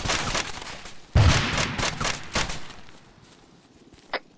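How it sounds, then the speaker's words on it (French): During a milsim game, a burst of several sharp gunshots rings out in quick succession, fairly loud with echoing tails, then fades into quiet broken by one faint distant report. "C'était vous les coups de feu?"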